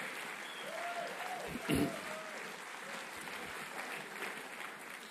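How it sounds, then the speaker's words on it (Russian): Audience applause at a lecture on equality and diversity, honouring the women in leadership, a broad steady wash of clapping throughout with a brief louder burst near the middle and faint voices beneath. "Давайте подарим мужчине большие аплодисменты нашим прекрасным женщинам."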